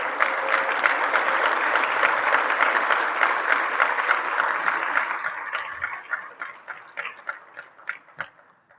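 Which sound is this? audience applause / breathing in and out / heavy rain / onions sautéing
audience applause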